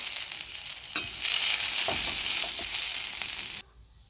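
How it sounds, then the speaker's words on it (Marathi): Garlic and onion roast in a hot pan for a spicy chicken curry, giving a steady bright sizzle that swells partway through, with a few stirring scrapes, before it cuts off sharply near the end. "लसूण आणि कांदा भाजून घेते।"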